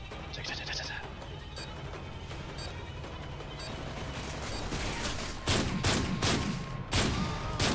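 Gunfire from a Modern Warfare 3 multiplayer match, with scattered shots at first and then several sharp, loud bursts packed into the last couple of seconds over steady game background noise.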